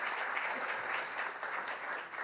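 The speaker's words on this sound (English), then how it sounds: "Let's give a round of applause for Alexander Trommen." Audience applause for a speaker at a business school talk event, a steady, dense clapping from a full room that holds even and continuous for a couple of seconds with no voices over it.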